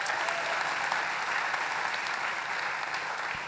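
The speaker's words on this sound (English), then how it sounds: "round of applause for that" A rally crowd gives a short, steady round of clapping, dense and moderately loud, with no voices over it.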